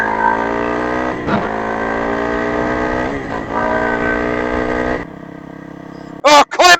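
Motorcycle idling and putting along slowly in a quiet zone on a trail, a steady close low engine hum with slight throttle changes, fading out before a few short sharp bursts at the end.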